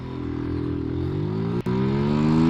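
Zontes U1 125 and WR 125 motorcycles accelerating together, a steady, loud engine drone whose pitch climbs gradually, with a brief dip near the end and no voices.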